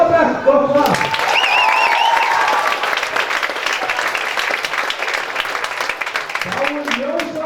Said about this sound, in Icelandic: Gefum fjórða bekk gott klapp.